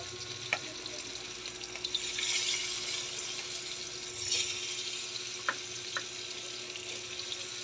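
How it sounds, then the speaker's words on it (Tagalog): Dried fish (tuyo) frying in a pan gives a steady crackling sizzle, with a few brief louder spatters and clicks scattered through. "Luto tayo ng tuyo."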